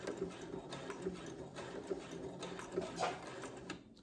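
A Brother sewing machine stitches fabric in steady mechanical bursts, its motor humming and clattering close by at moderate volume with brief pauses between runs.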